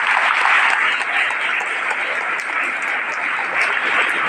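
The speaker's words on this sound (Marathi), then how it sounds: "कैवल्याने धनश्रीसाठी आपण सगळ्यांनी जोरदार टाळ्या वाजवल्या पाहिजे" Steady, dense audience applause from a crowd at a stage event in the Konkan region, sustained and loud throughout without a break.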